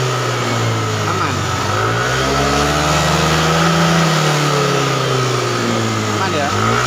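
Yamaha Aerox scooter engine revving under throttle and dropping back without reaching high rpm while its electrics cut out, loud and close, the pitch rising and falling over a droning idle as someone talks throughout.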